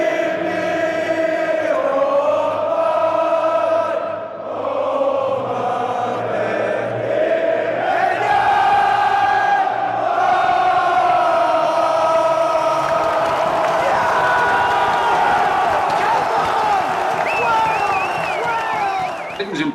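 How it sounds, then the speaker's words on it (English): Welsh football fans sing together in a stadium, a huge sustained crowd chorus with rising melodic lines that swells and holds for the whole stretch, loud and close. "It's the Welsh fans singing it"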